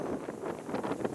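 Strong wind blowing outdoors, a steady broad rush with gusty swells buffeting the microphone, loud and continuous with no talking.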